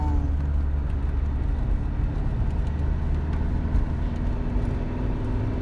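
A car with a 1.9 diesel engine drives hard along winding mountain roads, its engine and road noise a constant loud drone from inside the cabin with a low hum running throughout.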